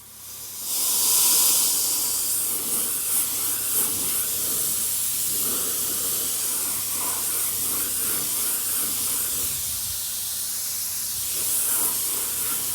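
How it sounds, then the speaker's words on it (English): A paint spray gun hisses at low pressure while coating a Stuart base plate, a steady close airy spray that swells in at the start and holds with slight variations, no talk over it. "you can treat these guns a little bit like airbrushes"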